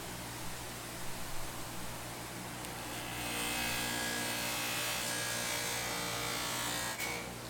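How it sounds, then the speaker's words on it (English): A wooden pipe bowl is buffed with wax on a spinning wheel. A steady, hissing whir continues throughout and grows slightly louder and brighter as the wood is pressed against the wheel. "I'm just going to take the stummel here and I'm just going to start buffing it"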